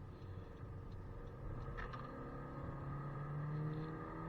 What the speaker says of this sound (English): The car is in sport mode now, and let's do a pretty quick hard acceleration.